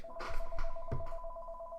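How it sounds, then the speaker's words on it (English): A telephone rings with an incoming call, a steady electronic ring tone repeating through the moment, moderately loud with no talk over it. "I got a phone call."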